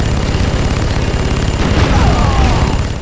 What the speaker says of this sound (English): we're just gonna blow it up and destroy their life's work